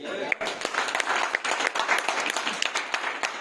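Audience clapping at a sales seminar about RCM products, a dense, steady patter of many hands at close range with crowd murmur mixed in.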